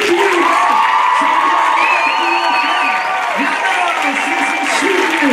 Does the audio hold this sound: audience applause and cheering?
yes